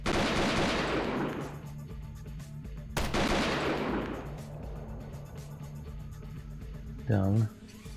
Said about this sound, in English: Switching back to AK-74.